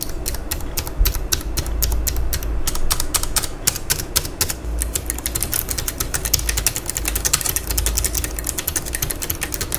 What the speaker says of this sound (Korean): 나름 기계식 키보드니까 타건음도 한번 들어보시죠.